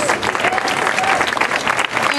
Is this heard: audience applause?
yes